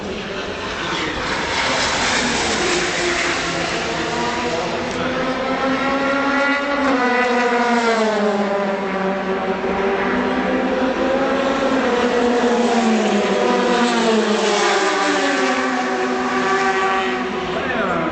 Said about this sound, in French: der erste Porsche 92, gefahren von Litz, dahinter Stefan Bücke im zweiten Porsche